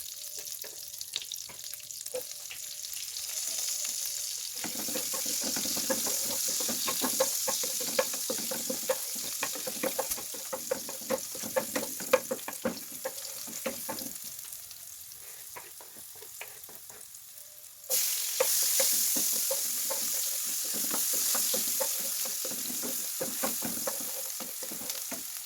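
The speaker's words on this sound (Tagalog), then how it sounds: "At ito nga guys, naglagay po tayo ng mantika at saka butter sa lutuan. At igisa lang po natin dito yung bawang at saka sibuyas." Garlic and onion sauté in oil and butter, a steady close sizzle broken by frequent scraping stirs, with a brief lull before the frying swells louder again near the end.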